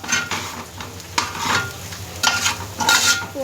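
Boiled potatoes being stir-fried in a pan for a potato fry, with close scraping stirs of a spatula over a steady low sizzle, several strokes in an uneven rhythm.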